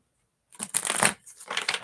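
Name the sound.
shuffling a deck of cards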